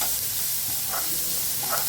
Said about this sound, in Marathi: हे पहा, अशा प्रकारे आपले कांदे फ्राय